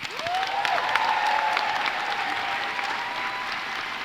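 Sustained, steady applause fills a hall at a college baccalaureate convocation, a dense wash of clapping from a large audience that holds evenly throughout, with a brief tone drifting over it.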